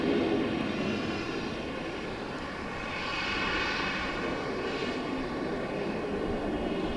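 A military jet takes off at Dallas Love Field at night, a loud, steady broadband engine roar that swells and holds for the whole stretch with no talk over it.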